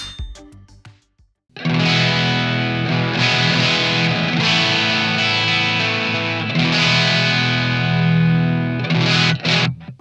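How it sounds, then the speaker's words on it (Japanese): An electric guitar rings out with a light overdrive crunch from a Blues Driver effect, sustained strummed chords holding steady and re-struck a few times before fading. "歪みはこの MS3 のブルースドライバーを、今オンにして軽くクランチさせてます。"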